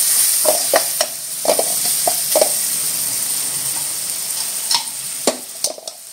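Tomato and coriander stir-frying in oil with masala, a continuous close sizzle broken by repeated sharp scrapes and clacks of a spatula against the pan.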